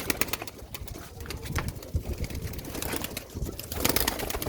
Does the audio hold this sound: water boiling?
no